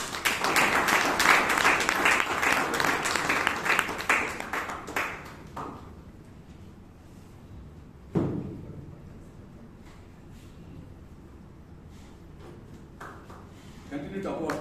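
Applause at a Toastmasters club meeting in Bangalore starts dense and loud, then thins to scattered claps and fades within about six seconds, followed by quieter room noise, a thump and occasional claps.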